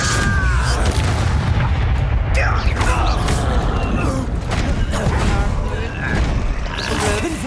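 Blasting-spell explosions from the Hogwarts Legacy video game crackle and boom repeatedly during a wizard duel, dense combat effects and music filling the scene while a voice speaks over the clash.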